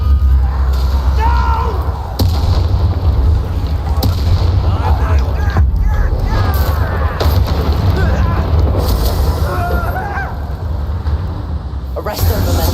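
Spell explosions from combat in Hogwarts Legacy, including the Bombarda blast, burst out amid loud, busy battle noise with repeated booms and impacts, while characters shout over the fighting.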